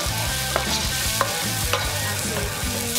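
Kapia pepper sizzles in hot fat in a pot for a beef and sausage ragout, with a spoon scraping and stirring in regular strokes over the steady frying hiss.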